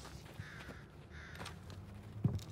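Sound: crow cawing in the video game Call of Duty: Vanguard

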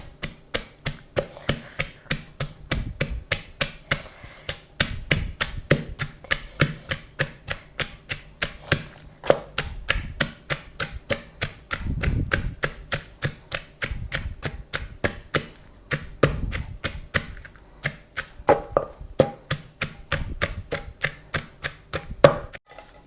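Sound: pounding wild grape salad in a mortar

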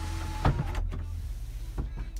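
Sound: sunroof opening on a 2007 Chevrolet Suburban LTZ

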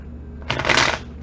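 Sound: shuffling cards

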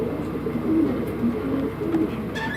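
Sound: Adana native Sakar pigeons cooing in loft

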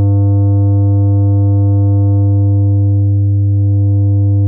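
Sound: soft-clipped sine wave tone

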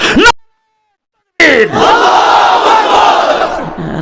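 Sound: crowd chanting the Nara-e-Takbir slogan

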